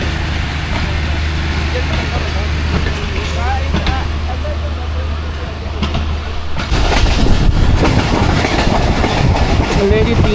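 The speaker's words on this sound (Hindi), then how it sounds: "3:20 कालूवाल से थ्रू पास हो रही है ट्रेन" The Awam Express rumbles steadily as it runs through Kaluwal, heard from on board. The rumble grows louder and rougher with rattling toward the end, and people talk over it.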